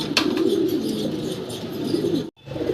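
Racer pigeons cooing, a low, continuous throaty rumble with a brief rustle near the start, close and fairly loud, cut off abruptly near the end.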